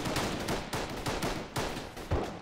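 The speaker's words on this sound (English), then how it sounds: "Someone just shot a civilian right in front of us." Gunfire from the video game Arma 3: a steady string of about five loud, sharp shots, roughly half a second apart, close by, with no talking.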